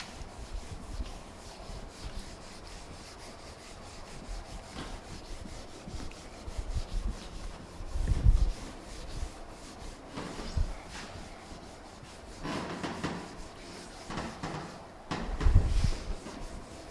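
Scrubbing and rubbing bursts as writing is wiped off a classroom board during a fluid mechanics lecture, irregular strokes that swell and fade, louder around the middle and near the end, with no talk.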